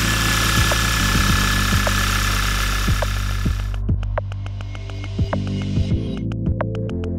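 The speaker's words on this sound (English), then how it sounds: "Start the engine and check again." A car engine with gasoline direct injection runs at idle after injector servicing, giving a steady low throbbing hum. Sharp regular ticking and clicking from the injectors sits over it and stays close and continuous.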